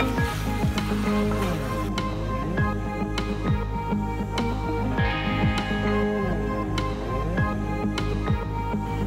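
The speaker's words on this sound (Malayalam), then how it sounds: "ഇനി നല്ലതുപോലെ നമുക്കിത് നല്ലതുപോലെ ഇളക്കി കൊടുക്കണം" A spoon scrapes and stirs thick masala for duck curry in a sizzling pan, repeated strokes over steady background music, no talking.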